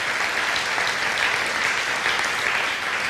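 An audience at a talk gives a round of applause for exhibitors who set up displays, a dense and steady wash of many hands clapping that fills the whole stretch without pause.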